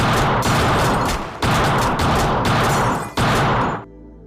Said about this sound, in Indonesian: tiba-tiba ia ditembak oleh anak buah Ale.